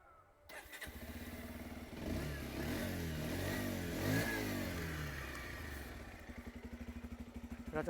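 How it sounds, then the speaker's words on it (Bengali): A Bajaj Pulsar 125 motorcycle exhaust starts up, then revs in rising and falling swells before settling into a pulsing idle, loud and close with no talking. "এটা হচ্ছে আপনার পালসারের এক্সস্টের সাউন্ড"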